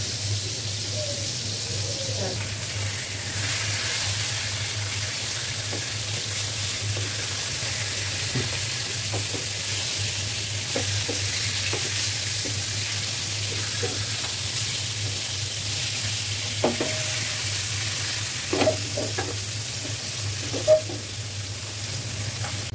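Fish fries in a pan with a faint, continuous sizzle. Occasional light clinks and utensil taps come through over a low steady hum.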